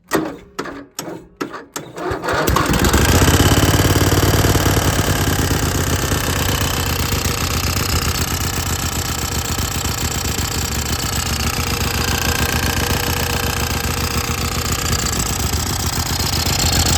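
The small engine of an old dump tractor cranks with a few quick chugging pulses, then catches and runs loudly at a steady, fast, rattling idle close by, with no talking.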